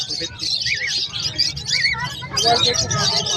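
Small caged finches and doves at a busy pet market, including white zebra finches and diamond doves, give bright chirps and tweets amid a crowd murmur, with people talking over the birdsong.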